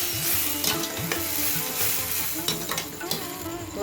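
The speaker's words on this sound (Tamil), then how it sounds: "அதையும் சேர்த்து நல்லா வதக்கிட்டு நம்ம அரைச்சி எடுத்து வச்சுருக்கோம் பார்த்தீங்களா தக்காளி பேஸ்ட்டு, அதையும் அதோடு சேர்த்துக்குவோம்" Green chilies and tomato paste sautéing in a pan for a vegetable kurma, a steady sizzle with repeated scraping stirs of a spoon against the pan, close and continuous with no talk.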